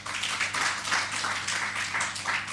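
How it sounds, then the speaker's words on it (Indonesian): Congregation in a church service claps together, a lively, moderately loud burst of many hands in an indoor hall, sustained for a couple of seconds. "Kasih tepuk tangan yang meriah bagi Tuhan."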